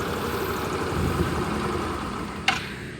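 A Yamaha Xeon GT125 scooter engine idles steadily with its exhaust blocked, a close, even low rumble that runs without pause before a sharp click near the end.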